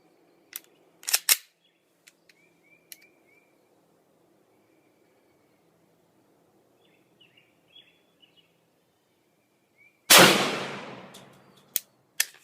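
An FN 5.7 pistol fires with a True Blue 6 grain load: two quick sharp cracks near the start, then one loud shot after a quiet stretch with a decaying echo, and faint birdsong in between.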